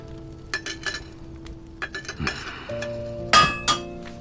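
Hammer striking copper and iron in a blacksmith's workshop: scattered sharp metallic clinks and ringing strikes, a few isolated hits then a louder pair near the end, with lingering resonant tones between them.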